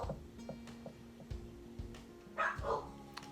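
A household dog gives a couple of short barks and yips near the end, preceded by faint whimpers and soft knocks over a low steady hum, fairly quiet and close.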